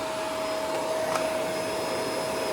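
A Shark NV501 upright vacuum runs with its brush roll spinning, giving a steady loud whine and airy roar with no speech.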